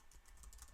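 Computer keyboard typing in all caps, a quick run of soft, even keystrokes close by, ending in a slightly louder press.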